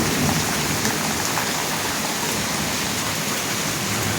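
Steady, dense rain pours down outside a house with a leaking tin-and-tile roof, a constant hiss of drops drumming on surfaces with no pauses and no voices.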